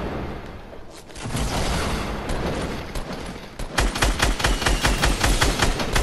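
Sustained automatic gunfire from a Fortnite match, loud and close, starting as a dense rattling barrage and ending in sharp rapid bursts with a clear rhythmic pulse, with no talking.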